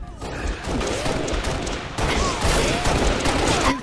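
A continuous, loud barrage of gunfire and impacts fills an arena shooter match, with overlapping shots, whooshing energy sweeps and crashes that never let up.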